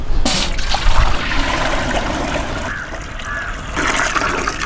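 Water pours into a cooking pot holding mutton ribs, a loud, close, continuous gushing splash that fades slightly midway and then swells again.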